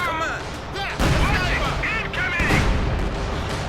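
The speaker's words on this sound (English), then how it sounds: "They can quickly use this improvised artillery to quickly catch your opponent's infantry" Improvised artillery barrage in the strategy game Company of Heroes 2: loud overlapping booms and rumbling blasts fill the whole stretch, with stronger impacts near one and two and a half seconds, mixed with battle noise.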